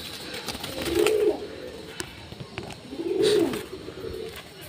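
Restless pigeons in a loft cage give two drawn-out rolling coos a couple of seconds apart, close and moderately loud, with scattered clicks and shuffling around them.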